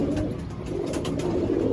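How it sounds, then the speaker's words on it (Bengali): Six- to seven-year-old Rampuri pigeons coo steadily and close by in a loft, a continuous low throaty murmur from several birds with no talking. "এগুলো মোটামুটি 6-7 বছরের পায়রা।"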